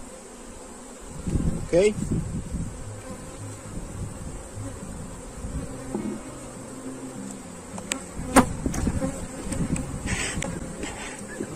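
Honeybees buzzing steadily around an open hive during a colony inspection, a dense continuous drone with occasional louder passes close by, and a brief voice speaking once.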